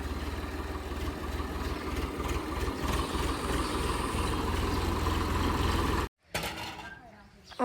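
A tractor engine idles with a steady, low, throbbing rumble for several seconds, then the sound cuts off abruptly before a brief noise at the end.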